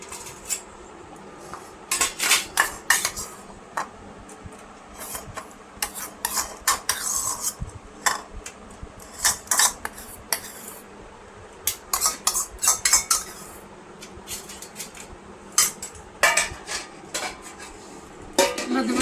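Steady clinking and clattering of metal utensils against plates and pans while plating rohu fish curry and taro greens, with irregular scrapes and taps continuing throughout, close by.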